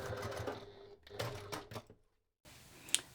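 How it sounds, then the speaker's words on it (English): A sewing machine stitches along marked lines on fabric pattern pieces for a hip bag, running in short close bursts of rapid mechanical whirring with pauses, a silent gap, then a brief sharp click. "And we're going to sew on that line as well."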